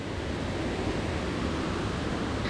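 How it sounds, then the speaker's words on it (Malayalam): Steady broadband rush of a waterfall's flowing water at a scenic spot in Kerala, a continuous even roar with no pauses, close and fairly full, with no voices over it. "ഇതാണ്ട വെള്ളച്ചാട്ടം ഒലിച്ചു വരുന്ന ഭാഗം"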